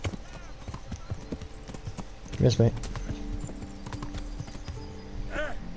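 Horse hooves clop in the medieval video game Kingdom Come: Deliverance, mixed under game dialogue and a brief whinny. Voices speak over the steady rhythmic hoofbeats.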